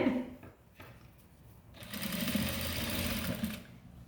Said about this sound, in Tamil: இதுவும் கரெக்டாக வச்சுட்டு இப்போ நான் தைக்க போகிறேன்.